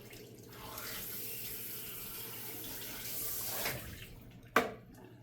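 Running water pours steadily from a salon shampoo sink tap while hair is rinsed, a soft continuous hiss with a brief splashing surge near the end, no voices.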